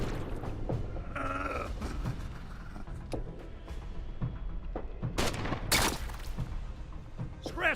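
Scattered gunshots crack in a first-person shooter game, a few sharp separate reports mixed with quieter game noises, with a bright louder burst near the end.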